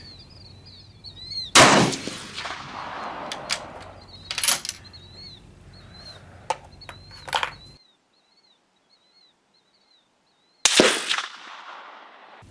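Gunshots crack at an outdoor shooting range, three loud sharp reports spaced several seconds apart, each trailing a rolling echo, with birds chirping faintly between them.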